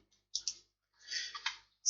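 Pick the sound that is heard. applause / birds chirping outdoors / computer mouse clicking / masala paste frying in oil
computer mouse clicking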